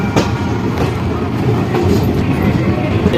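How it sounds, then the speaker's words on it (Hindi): The Danapur Jogbani Intercity Express pulling into Jhanjharpur Junction, heard from inside a crowded sleeper coach as a loud, steady rumble of wheels with faint rhythmic clatter and a few sharp clanks. "तो फिलहाल ट्रेन हमारी अराइवल हो रही है झंझारपुर जंक्शन रेलवे स्टेशन।"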